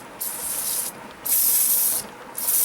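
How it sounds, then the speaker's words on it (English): Rust penetrant such as WD-40 sprayed liberally onto a bolt during accessory drive belt work on a 2001 Hyundai Accent, heard as three close hissing bursts, the middle and last ones louder, with short gaps between. "So I'm just spraying it kind of liberally,"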